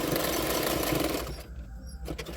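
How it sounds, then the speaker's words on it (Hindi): A sewing machine runs fast and loud, stitching a blouse hook strip, a dense steady whir for over a second before stopping briefly, then a few more short stitches. "अभी उसके ऊपर और एक सिलाई डाल दूँगी"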